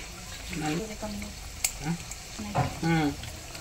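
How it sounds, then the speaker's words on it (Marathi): Potato slices frying in oil over a low gas flame give a steady soft sizzle throughout, with a person talking over it and a brief clatter in the middle. "तेलामध्ये सोडत आहे. कमी गॅसवर ठेवलेला आहे मी."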